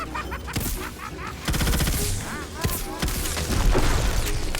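Sniper and other weapon fire in the game Tiny Tina's Wonderlands: loud, sharp shots and booms in quick, irregular succession amid busy combat noise.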